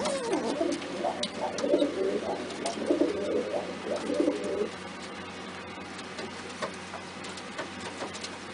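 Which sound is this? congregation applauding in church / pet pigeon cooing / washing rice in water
pet pigeon cooing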